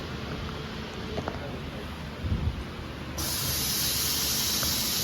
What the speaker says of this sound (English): turn on this compressor switch.